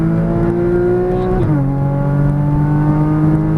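A Porsche Cayman GTS engine under throttle on a race track, a loud, steady droning tone heard from inside the car that dips in pitch once as a gear shift and then holds.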